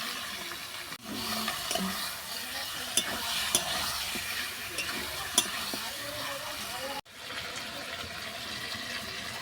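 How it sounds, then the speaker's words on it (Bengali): Chicken for a red curry, seasoned with turmeric, chili powder and garam masala, sizzles steadily in a hot pan, with occasional sharp scrapes and clacks of stirring over a continuous hissing fry. "এরপর মাংসটা আমি তুলে দেবো।"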